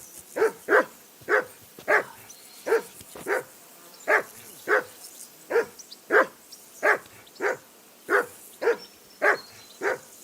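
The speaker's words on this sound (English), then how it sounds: "Whistle at that mutt of yours to stop barking." A dog barks repeatedly in Kingdom Come: Deliverance II, about sixteen sharp, evenly spaced barks over ten seconds, loud and close, with no talk over them.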